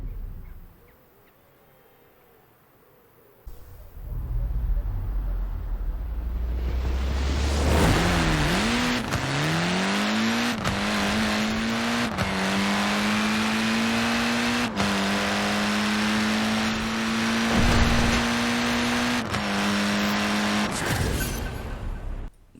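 A Fiat X1/9 drag build in Forza Horizon 4 launches after a quiet idle, its engine revving hard and climbing through several gear changes, each marked by a dip and rising pitch, loud and close.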